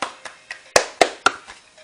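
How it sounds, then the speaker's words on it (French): Several single hand claps come at an even beat, about four per second, sharp and close. They are louder in the middle and fade toward the end. "Ok, ça s'applaudit."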